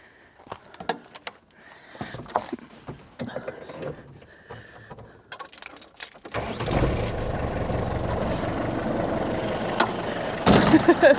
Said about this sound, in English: So let me start her up and you can hear and see what the engine looks like.